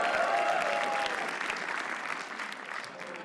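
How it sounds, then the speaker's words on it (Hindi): Audience applause at a comedy reaction show, a dense burst of clapping from a crowd that starts loud and slowly tapers off, with no talk over it. "भाई ताली बजाओ"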